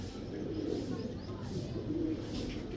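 Pigeons coo steadily in a loft, low rolling calls repeating over a constant background hum at moderate distance.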